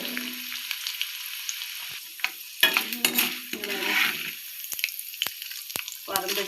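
Chana dal frying in oil in a pan until golden, a steady soft sizzle with occasional stirring scrapes and clinks of the spoon against the pan, close and fairly quiet throughout.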